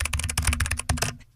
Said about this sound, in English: it is someone on the keyboard